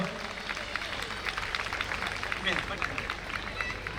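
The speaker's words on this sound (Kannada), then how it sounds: "ಎಲ್ಲರೂ ಒಮ್ಮೆ ಚಪ್ಪಾಳೆ ಹೊಡೆಯೋಣ." Scattered applause from an audience at a Kannada Rajyotsava event, moderate and continuous, with people talking over it.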